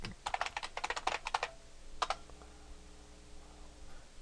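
Bursts of keystrokes on a computer keyboard as a Linux install command is entered on an Ubuntu desktop, quick clustered taps followed by a pause, another short burst and faint trailing clicks, close and alone.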